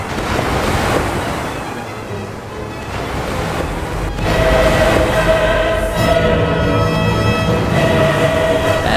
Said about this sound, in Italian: suono del mare.